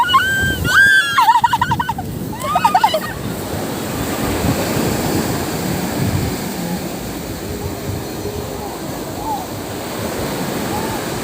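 Strong ocean waves roar and crash continuously, loud and close, while a few harsh bird-like calls sound briefly near the start.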